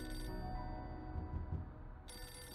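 A phone rings in the video game Beholder 2, a steady electronic trill that sounds, drops out briefly, then comes back, alone with no voices.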